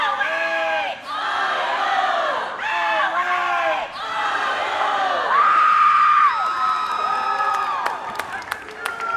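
A crowd at a college dodgeball nationals bracket match chants and cheers in rhythmic, rising shouts, with a sustained whoop and scattered clapping toward the end, loud and close.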